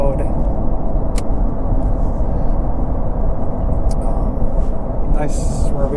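A Corvette C8 is driven on the winding road to Tortilla Flat, heard from inside the cabin as a loud, steady low engine and road rumble, with a person talking over it throughout.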